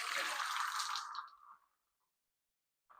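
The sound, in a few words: water poured from Sage tank into Meraki coffee machine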